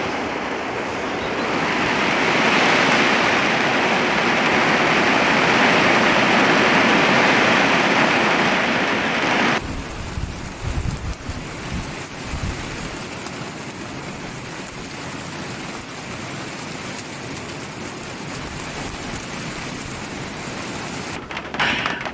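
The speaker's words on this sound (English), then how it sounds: "well, that was a shower and a half." Heavy rain shower pouring down over a vegetable garden, a loud, steady hiss that fills the air, then abruptly eases into a lighter, uneven patter with drips and rumbles close by.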